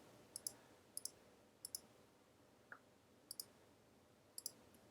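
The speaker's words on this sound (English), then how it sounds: "So I'm going to just kind of click" Mouse clicks while placing points on a contour in RoboFont type-design software, a sparse series of sharp, close, faint double clicks at irregular intervals in a quiet room.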